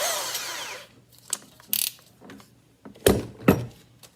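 A power drill spins a wood rasp bit against a rattan sword blank in short, separate bursts of rough grinding with quiet gaps between, the louder bursts coming near the end.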